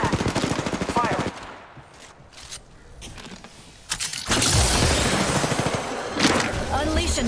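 Rapid automatic gunfire in a Season 14 Apex Legends match, loud and close in bursts at the start, then a quieter gap and another dense stretch of firing and impacts.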